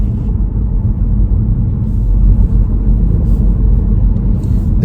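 A car drives along a road with a steady, loud low rumble of engine and tyres from inside the cabin, holding an even drone as it eases off approaching a roundabout.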